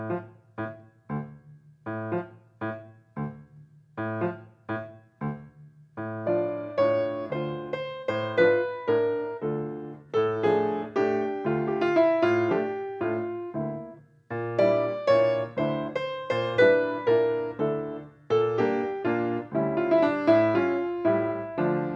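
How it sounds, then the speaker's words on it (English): The Habanera aria from the opera Carmen, with a steady low plucked rhythmic pattern opening alone before a sustained melodic line and fuller accompaniment join, continuous and moderately loud throughout. "So what you just heard was the habanera from Carmen"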